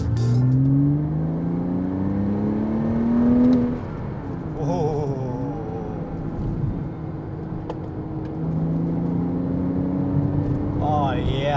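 Porsche car accelerating on the road, engine note climbing in two strong pulls with a dip between, loud and close, with a voice speaking over it in the middle.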